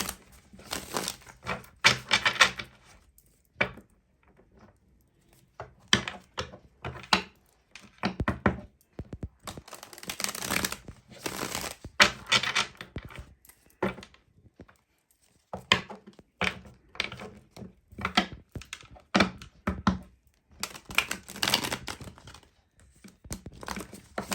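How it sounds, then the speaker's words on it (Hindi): Tarot cards drawn and shuffled from a second deck: bursts of riffling, flicking and soft slapping card sounds come in clusters separated by short pauses, close and fairly quiet, with no talking. "चलिए दूसरे डेक से भी निकालते हैं कार्ड्स।"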